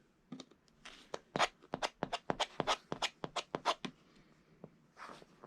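A quilt-as-you-go block edge trimmed along a ruler: a quick, quiet run of about twenty crisp, close cutting strokes in an even rhythm, pausing near the end before two last strokes.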